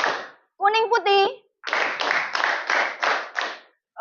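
School pupils clapping hands in a classroom, several quick bursts of rhythmic group claps in short, evenly spaced volleys, with a voice briefly between them.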